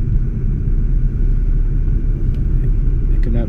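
Mercedes-Benz with a 722.9 7G-Tronic automatic transmission on a test drive, giving a steady, loud low engine and road rumble throughout with no clear speech.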